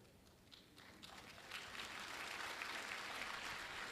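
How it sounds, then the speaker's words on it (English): Applause from a graduation audience at Boland College grows from scattered claps into steady, dense clapping that fills the hall, with no speech over it. "can we give another round of applause to all our management assistant graduates?"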